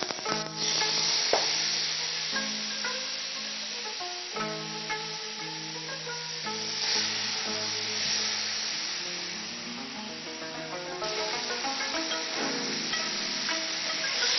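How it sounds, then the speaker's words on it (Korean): Marinated galbi ribs frying in a lightly oiled hot pan, a steady soft sizzle running throughout with faint clinks, heard alone beneath a layer of background music. "달 구워진 팬에 기름을 살짝 두르고 양념된 갈비를 넣습니다."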